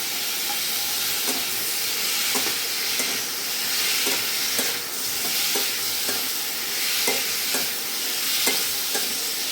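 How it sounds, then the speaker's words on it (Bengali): Ginger and garlic paste fry in hot oil for an eggplant and mango sour curry. A continuous loud sizzle runs throughout, with a spatula scraping and tapping the pan at a regular, roughly half-second rhythm. "কাঁচা মশলাগুলো আগে দিয়ে দিচ্ছি বন্ধুরা, একটু আদা বাটা, একটু রসুন বাটা।"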